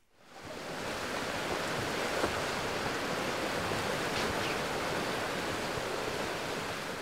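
River water rushes steadily at a river surfing spot in Abingdon, Oxfordshire, a broad continuous roar that swells in at the start and then holds loud and even, with no voices.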